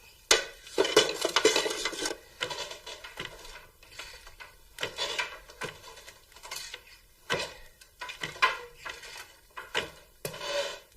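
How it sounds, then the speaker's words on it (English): Food being stirred in a pot with a spoon as salt is added, giving a run of clinks, scrapes and clatters of utensil against pot in irregular bursts, fairly close, with no talking. "Stir it up."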